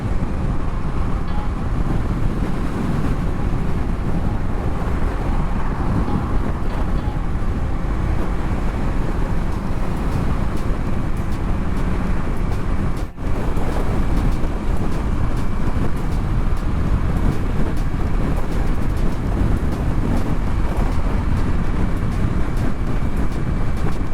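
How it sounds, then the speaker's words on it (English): Strong wind buffets a microphone beside the water during a Yamaha MT-03 motorcycle ride, a loud, steady roar with a rushing low rumble that runs unbroken for about twenty-four seconds, interrupted only by one brief sharp knock midway. "Hopefully the audio is coming out clear because it sure is windy."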